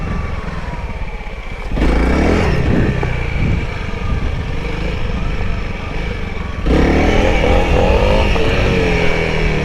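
A Honda CRF300L dual-sport motorcycle being ridden, its engine droning steadily and loudly up close, then rising in revs and climbing in pitch twice as the rider accelerates, with wind rumble underneath.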